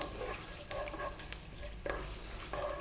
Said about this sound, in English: Let's drop in here the chili, the dried red chili, and the cumin seeds.